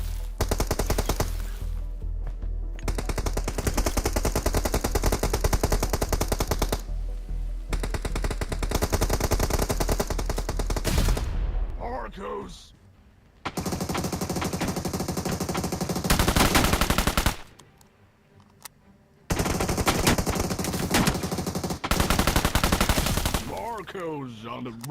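Rapid bursts of automatic gunfire in a PUBG-style battle royale shooter, loud and dense, broken by short pauses and quieter stretches, with someone talking over the shooting.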